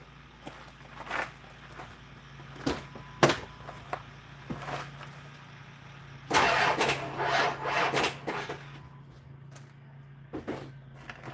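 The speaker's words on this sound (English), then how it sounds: "I think you're about to hear batteries drain down to dead." The FE engine of a 1972 Ford F250 with fuel pump issues cranks as its batteries drain, a sequence of uneven starter bursts and chugging that weakens and fades toward silence, with no talking.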